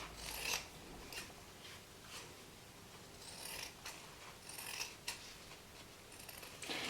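Scissors snip through pieces of toilet paper in a series of close, crisp cuts at an uneven pace, quiet and without talk.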